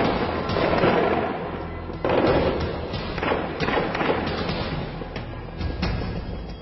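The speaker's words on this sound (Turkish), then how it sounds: "Pakistan'ın Lahore kenti silah sesleriyle yankılandı." Automatic weapons fire during an attack on the Sri Lanka cricket team in Lahore, Pakistan: loud, dense, rapid bursts of gunshots that echo continuously.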